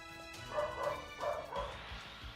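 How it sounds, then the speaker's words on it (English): A dachshund barks indoors at a car pulling up outside, a few short, rhythmic woofs and yips over roughly two seconds, moderately close and loud with no talk. "Oh, you might be able to hear my dog barking."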